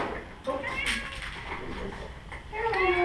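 A cat meows with rising, tonal cries near the start and again at the end, heard indoors in a building full of cats amid faint background noise.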